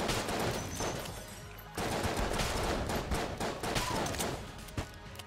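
Weapons in the game Enter the Gungeon fire in dense, continuous rapid bursts, a steady clatter of shots that fills the whole stretch at moderate loudness.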